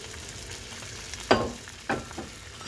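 Egg cooking in warm oil for kimchi fried rice crackles in a steady close sizzle, with two sharper bursts of frying and stirring about half a second apart and no talk.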